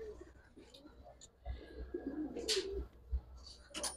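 Giribaz and coloured pigeons coo softly at a pigeon seller's in Old Dhaka, with low murmuring calls and a few faint chirps amid quiet background chatter.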